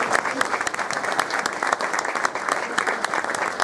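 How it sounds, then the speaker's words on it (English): An audience at a racing owners club media day gives a lively round of applause, busy and continuous clapping with scattered sharper claps throughout. "Give these gentlemen a round of applause."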